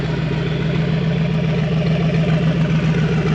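Radiator cooling fan switching on over a carbureted engine at idle, a steady low drone and whir with a faint rhythmic clatter, close and continuous.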